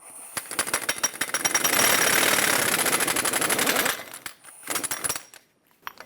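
An impact wrench on the front axle nut of a Dodge Ram 2500 hammers in short bursts and then runs a longer sustained rattle. Sharp clicks and clanks of metal parts follow as it stops.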